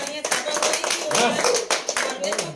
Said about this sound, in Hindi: एक बार जोरदार ताली के लिए यार।